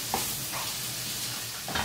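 Vegetables lightly frying in a pan give a steady, soft sizzle, with a few faint scrapes of stirring scattered through it. No one speaks.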